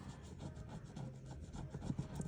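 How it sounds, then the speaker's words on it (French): A coin or nail scratches the silver coating off the spots of a paper scratch card, giving a steady, close, soft rubbing and rasping that goes on without pause. Nobody speaks. "Je vais gratter pastilles."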